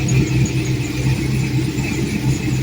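A 1984 Corvette engine runs steadily through its stock Flowmaster exhaust, a loud, close, even rumble with a squealing edge and no revving, no voices.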